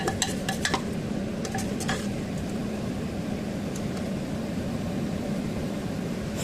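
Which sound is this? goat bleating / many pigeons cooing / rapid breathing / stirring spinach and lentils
stirring spinach and lentils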